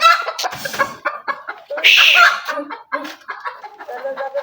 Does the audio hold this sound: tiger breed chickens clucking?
yes